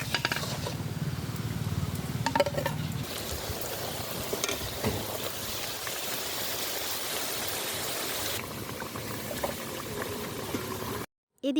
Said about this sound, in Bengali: এদিকে তালের ফুলকো ফুলকো লুচি ভাজা হচ্ছে।